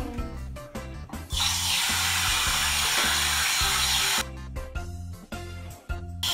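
Tap water runs over hands being rinsed at a sink, a steady hiss lasting about three seconds that sits over upbeat background music, which carries on before and after.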